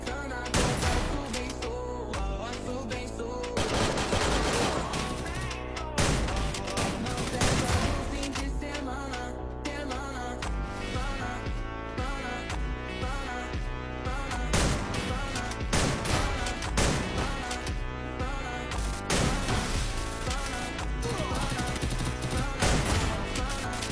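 Gunfire in the Free Fire mobile battle-royale game: dense, continuous bursts of rapid shots and crashes, loud and steady throughout, layered with game sound effects.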